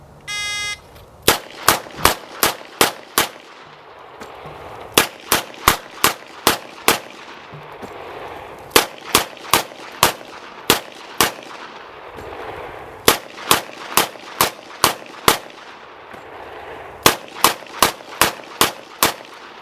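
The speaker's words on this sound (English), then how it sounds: "he fired 30 rounds from a 6-shot revolver" Six-shot revolvers fired rapidly, 30 rounds in quick bursts of about six loud cracks each, separated by short pauses for reloading, with a brief beep at the start.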